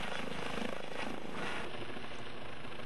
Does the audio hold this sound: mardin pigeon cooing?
no